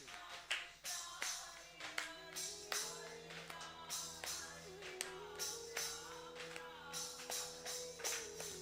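Hands clap in a steady rhythm alongside Hare Krishna devotional chanting at a spiritual discourse, with sung voices and sustained tones running beneath the evenly spaced claps.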